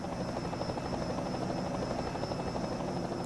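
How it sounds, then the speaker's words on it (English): Simulated helicopter from the NASCAR Racing 2003 game's helicopter camera over Martinsville Motor Speedway, a steady rhythmic rotor chop with a constant droning hum, loud and unbroken throughout. "Beautiful helicopter view here of the Martinsville Motor Speedway"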